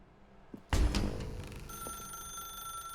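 Telephone in the video game The Stanley Parable rings with a bright electronic bell tone, starting abruptly after a faint click and sustaining steadily and fairly loud to the end.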